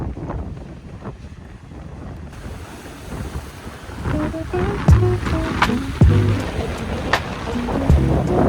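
Ocean waves break along the coast at Cádiz, a rushing surf mixed with strong wind buffeting the microphone, growing louder with several heavier wave crashes toward the end.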